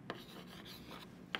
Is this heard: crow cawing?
no